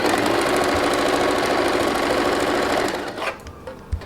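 A sewing machine stitches old saree fabric for an Anarkali kurti, running in a fast, steady mechanical whir up close before slowing and stopping with a few soft clicks.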